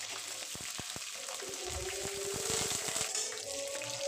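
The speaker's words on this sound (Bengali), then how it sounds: "প্রথমে আমি আলু ভাজার জন্য কড়াইয়ে সরষের তেল দিয়ে দেব। তারপর আলুগুলো ভেজে নেব।" Potatoes fry in mustard oil in a kadai, a moderate sizzling hiss with a run of soft clicks and stirring taps in the middle, fairly close and alone without talk.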